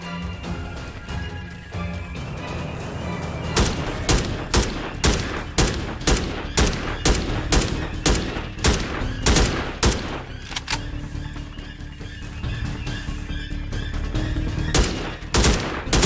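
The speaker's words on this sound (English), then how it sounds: "Shooting into the darkness, hoping it's actually hitting him." Rapid gunfire from the VR shooter Immortal Legacy, a long string of sharp, loud shots in quick bursts with brief pauses, close and dominant with no talk over it.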